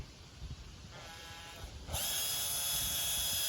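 Power drill boring into wood, starting with a faint low whir and rising at about two seconds to a loud, steady high-pitched whine that holds to the end.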